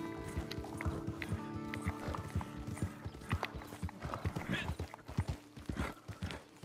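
Horse hooves clip-clop steadily in the video game Red Dead Online, a brisk close rhythm of hoofbeats with soft background sounds and no talk over them.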